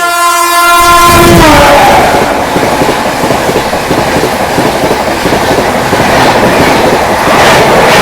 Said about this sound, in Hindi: Bikaner Sealdah AC Duronto express continuous horn के साथ में आ रही है फतेहपुर स्किप करने